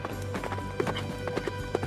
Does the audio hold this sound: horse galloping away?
yes